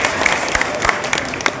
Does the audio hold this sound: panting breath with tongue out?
no